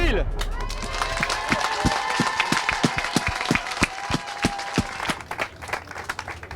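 An outdoor crowd on a town square applauds a finalist at a flambéed-tart (tarte flambée) cooking contest, steady loud clapping with some cheering that thins into scattered claps at the end.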